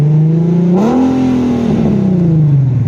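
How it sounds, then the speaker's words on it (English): Infiniti Q50 with a VQ37 V6 engine revving hard through an aftermarket exhaust, a loud, steady, aggressive drone that climbs in pitch and then slowly falls, heard close with no talking. "That sounds like a VQ right there, boys. Now that's a proper sounding VQ. Nice and aggressive. Now we're letting that VQ 37 just rip."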